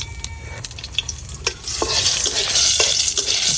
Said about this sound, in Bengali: এই তেলের মধ্যে কয়েকটা শুকনা মরিচ ভাজা নিলাম।